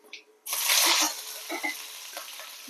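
Cut green chili drops into hot oil, setting off a sudden loud sizzle that fades into softer crackling and popping, heard close with no talk.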